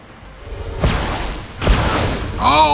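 A lightning spell in the video game Shadowrun: Hong Kong strikes as two sharp, crackling whooshing bursts in quick succession, followed by a warbling electronic tone.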